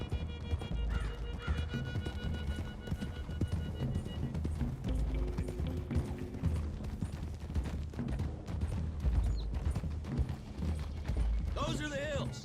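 Horses gallop with rapid clip-clopping hooves and occasional whinnies in Red Dead Redemption 2, a steady dense rhythm under game ambience and faint voices throughout.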